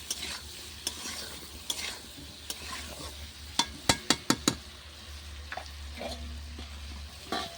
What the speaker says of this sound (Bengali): দেবো নুন দিয়ে সবজিগুলো ভালো করে ভেজে নেবো